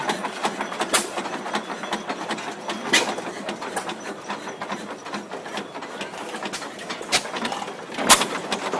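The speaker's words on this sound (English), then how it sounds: "This engine is a Prey, also built by Waterloo." Antique six-horsepower Prey stationary engine built by Waterloo runs at a show in Paducah, giving a steady stream of sharp periodic firing pops over continuous mechanical clatter, close and fairly loud throughout.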